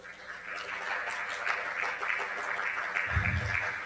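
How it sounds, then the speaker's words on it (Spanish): Faint, steady applause from an audience welcoming a doctor at a medical talk, sounding distant and thin, with a steady high tone running throughout and a low rumble at the end. "Por favor, un fuerte aplauso para el doctor."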